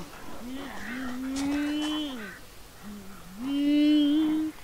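Cattle in the video game The Forest give two long, distorted, drawn-out moos separated by a short gap, loud and close over a faint background.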